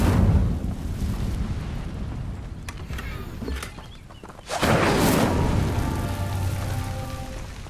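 Incendio fire spell cast in Hogwarts Legacy: a roaring whoosh of flame that swells after a brief lull, then sustained crackling burn, loud and close.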